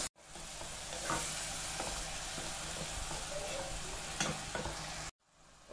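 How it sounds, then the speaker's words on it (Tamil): Onion, green chili and ginger-garlic paste with salt sauté in a pan, a continuous loud sizzle broken by intermittent spatula scrapes, then a sudden stop near the end. "இப்போ எல்லாத்தையும் ஒரு வதக்க கொதிக்கிறோம்."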